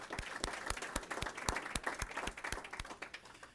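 Modest audience at an event clapping for sponsors, a sparse round with a few loud distinct claps in an uneven rhythm over softer scattered clapping, fairly close, no voices.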